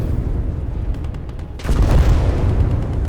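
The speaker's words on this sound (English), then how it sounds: "Germans send another wave of heavy artillery, pounding the buildings" Heavy artillery in a World War II strategy video game pounds buildings, a dull continuous rumble of distant booms that swells into a louder, heavier blast partway through, with no voices.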